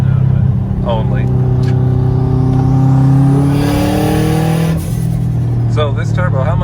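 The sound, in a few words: turbocharged car engine revving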